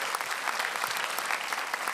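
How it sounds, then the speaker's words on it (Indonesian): Studio audience at a stand-up comedy competition show claps loudly and steadily, a dense close burst of applause filling the whole moment. "Boleh tepuk tangan untuk ibu saya."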